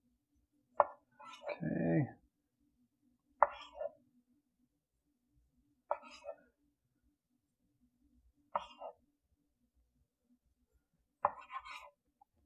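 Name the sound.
knife cutting rolled pizza pinwheel dough into rolls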